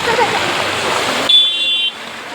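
Rainwater rushes through flooded Mumbai streets in a loud, broadband roar of flowing water that cuts off partway, leaving a quieter hiss with a brief car-horn-like tone.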